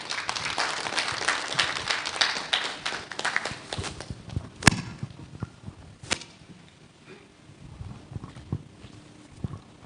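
Applause rises from an audience at a pharmacists' college ceremony, dense clapping at the start that thins into scattered, fading claps.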